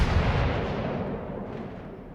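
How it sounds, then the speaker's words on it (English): Heavy boom from the German battleship Gneisenau's main guns in World of Warships, a single loud broadband blast with a long rumbling decay filling the clip, no talk. "So just sent a few more shots at that Nagato"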